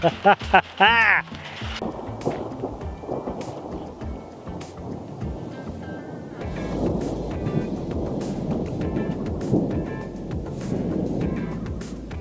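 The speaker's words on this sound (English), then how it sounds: "Ooh, it's coming down, coming down." Heavy rain falls at an outdoor building site for a gabion retaining wall, with crackling thunder early on and then a dense, steady downpour as people talk.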